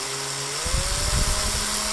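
A power drill twists coil wire for a wickless vaping coil until the wire snaps at the drill bit, a close whining motor pitch that climbs and then settles into rough grinding.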